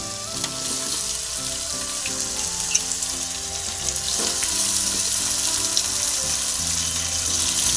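Country chicken sizzles steadily in hot oil with ginger and garlic for a curry, a continuous close frying hiss that builds slightly over the stretch, with no voices.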